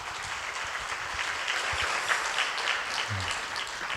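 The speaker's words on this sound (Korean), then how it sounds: "우리 뜨거운 박수로 환영하겠습니다" A church congregation at a revival service claps warmly to welcome a pastor, an even, moderately loud crowd clapping that runs throughout, with low murmurs and a few thumps underneath.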